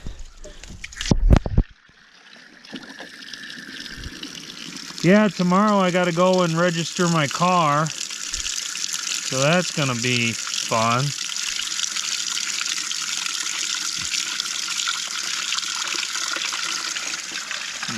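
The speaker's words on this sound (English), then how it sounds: "just put a little fresh water in it." Fresh water runs into a container holding deer meat set to soak on an off-grid homestead, a steady pouring gush heard beneath someone talking casually close by.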